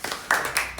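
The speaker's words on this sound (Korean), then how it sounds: "박수." A few sharp hand claps, roughly three quick separate strikes, ring out close by during a game session, brief and isolated with no talking over them.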